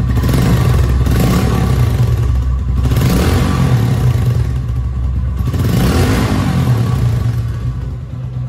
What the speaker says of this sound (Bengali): আপনাদেরকে এক্সস্ট নোটটা একটু শোনাই।